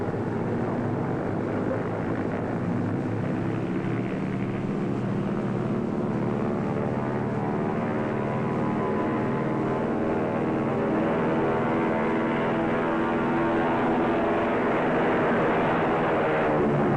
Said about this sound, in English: Tower to Flight 34, you may take off on runway C.